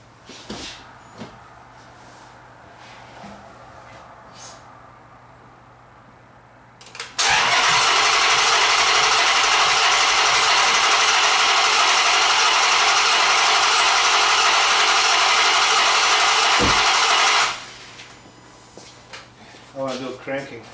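A Chrysler 300 with a misfire fault cranks and fires up, settling into a loud, steady idle that runs for about ten seconds before cutting off abruptly, with quieter shop sounds before and after.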